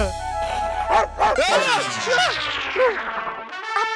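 A dog barks and yips in a quick excited series of close, loud bursts, with voices talking under the barking.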